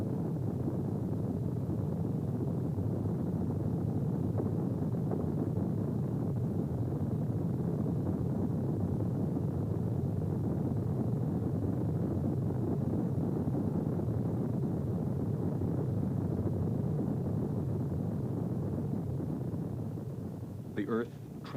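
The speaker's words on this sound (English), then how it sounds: "The engines ignite." Space shuttle main engines ignite at launch, a deep, steady, broadband roar that rumbles on evenly for about twenty seconds before easing at the very end.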